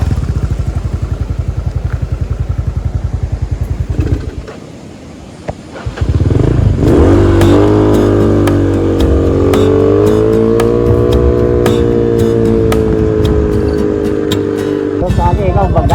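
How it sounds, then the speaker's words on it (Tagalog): A motorcycle engine revs up and labors with a rising, strained drone, loud and close, after a stretch of steady idling. "Nahirapan yung makina."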